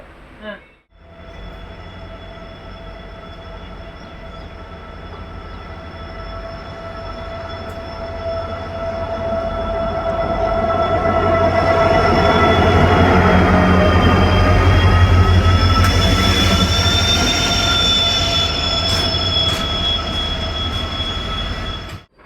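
A passenger train on the Tiruchirappalli–Needamangalam–Mannargudi line in Tamil Nadu rumbles past on the rails, wheels squealing and clattering, the noise swelling as it nears and then easing off.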